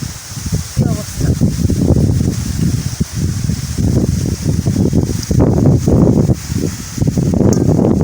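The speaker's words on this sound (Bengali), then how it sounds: "আজকে বাতাস একদম সঙ্গ দিচ্ছে না আমার" Strong gusty wind outdoors in a village, loud low buffeting rumble that surges and dips in repeated gusts for the whole stretch, with no voices.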